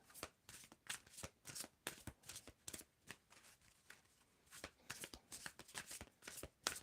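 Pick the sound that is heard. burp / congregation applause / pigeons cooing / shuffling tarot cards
shuffling tarot cards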